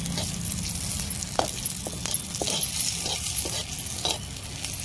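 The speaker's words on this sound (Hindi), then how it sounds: "देखिए तेल गरम हो गया है, तड़का मार दे।" Steady loud sizzling of spices being tempered in hot oil, with a few light clinks of a spoon against the pan.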